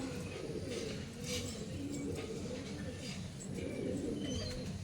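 Pigeons cooing, probably a flock of pet pigeons at their loft, with low, rounded coos that overlap in a steady, close murmur throughout.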